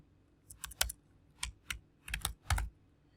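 Typing on a computer keyboard: several quick bursts of key clicks in irregular clusters, fairly close and moderately quiet, with no voices.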